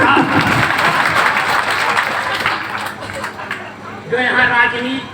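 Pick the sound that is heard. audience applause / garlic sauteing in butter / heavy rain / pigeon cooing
audience applause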